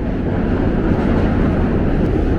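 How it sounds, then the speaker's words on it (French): New York subway train passing nearby, a loud continuous low rumble and roar with no breaks, heard up close without any voices. "il y a le métro qui passe en fond"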